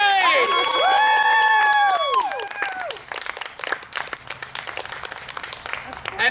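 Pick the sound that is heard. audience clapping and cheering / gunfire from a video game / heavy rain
audience clapping and cheering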